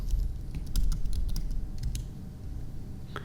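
Quick, light clicks of fingers typing on a computer keyboard, close and fairly quiet, in short irregular bursts with no talking.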